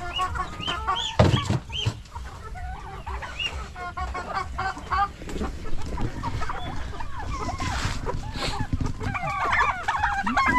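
Pet chickens laying their first eggs cluck and squawk up close in a rural yard, a busy, overlapping chorus of short calls that runs continuously with a louder squawk early on.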